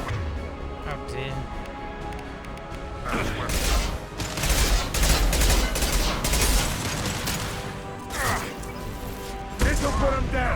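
Heavy gunfire in the video game Mass Effect 2, dense sustained bursts of shots and impacts crackling through a noisy firefight, loud and continuous with a few sharper cracks.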